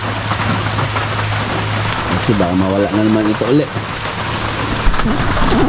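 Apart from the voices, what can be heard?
rain falling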